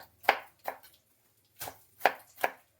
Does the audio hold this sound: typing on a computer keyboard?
no